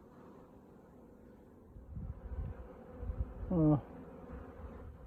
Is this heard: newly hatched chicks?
no